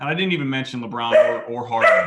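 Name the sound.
dog barking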